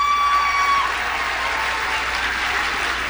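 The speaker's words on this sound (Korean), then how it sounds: "와 하는 소리 들리죠?" A large crowd at a Trump speech roars and cheers with sustained applause, loud and dense, filling the whole stretch with no pause.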